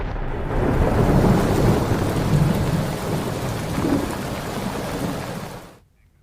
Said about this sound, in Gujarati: ધોધમાર વરસાદે મુંબઈની હાલત બગાડી નાખી છે